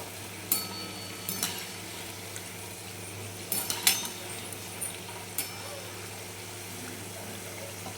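Wheat flour kapnya frying in hot oil and being turned over: a steady low sizzle runs throughout, broken by a few sharp clinks of a metal utensil against the pan.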